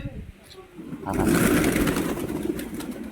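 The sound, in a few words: pigeons cooing while being fed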